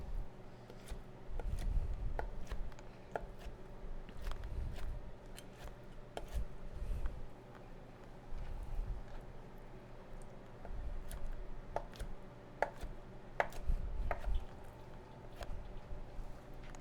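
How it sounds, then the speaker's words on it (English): A knife rough-chops ingredients for chicken pozole verde soup on a cutting board, a string of sharp, close taps in an uneven rhythm with soft thuds between them. "and then we can just rough chop it"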